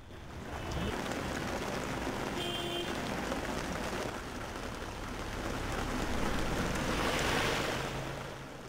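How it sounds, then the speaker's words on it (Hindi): Heavy, sudden monsoon rain pours down on flooded streets as a continuous, dense hiss. It swells slightly toward the end before easing off. "अचानक हुई तेज बारिश से सड़कों पर पानी भर गया।"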